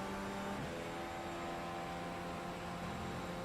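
Indy car engine in the rFactor 2 racing sim holds a steady, sustained high-revving drone at constant speed, a continuous mechanical whine with no talk over it.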